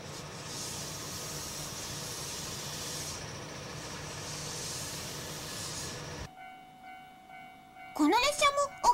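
A train rumbles and hisses steadily at moderate distance, then the sound cuts to a quieter passage with a tone and a burst of sharper noise at the end.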